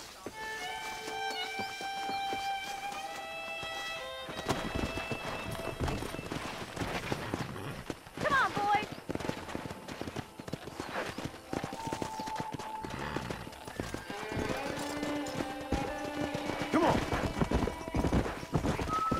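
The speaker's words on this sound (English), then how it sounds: "Let's see if we can't wrangle some horses." Horses in the Red Dead Redemption video game clip-clop and gallop while occasional neighs and whinnies rise over game music, with hooves building and fading across the scene and people talking intermittently.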